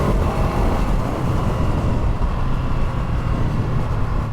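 A 2022 Ducati Streetfighter V2 motorcycle is ridden on the road, its engine giving a loud, continuous, close rumble with wind noise throughout and no voices.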